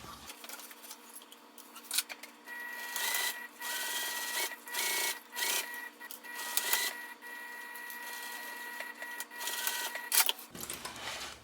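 A sewing machine stitching the exterior of a zipper pouch runs in steady mechanical bursts, close and fairly quiet, pausing briefly between runs with soft handling noises.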